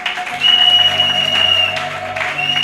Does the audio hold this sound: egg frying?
no